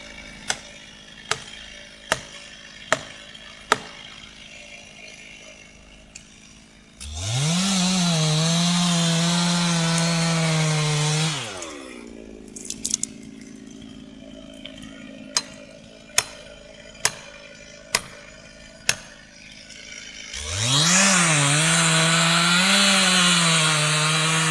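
A chainsaw roars at full throttle in two long bursts, biting through a tree trunk during timber harvesting in rough working weather, separated by idle stretches with sharp ticking clicks, no talking.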